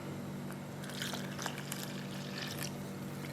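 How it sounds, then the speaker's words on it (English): Water is poured into a well in a mound of sifted flour for pasta dough, a faint soft trickle and pour with small splashy bursts, near and alone. "Into that well we're going to pour the water."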